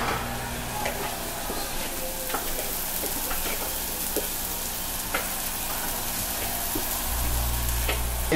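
Food sizzles and crackles steadily on a Foreman grill, a dense close frying hiss with scattered pops, growing slightly louder toward the end.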